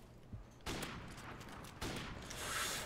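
Two sharp gunshot bursts ring out in Call of Duty Modern Warfare Remastered, well separated and fairly close, with quiet game ambience between them.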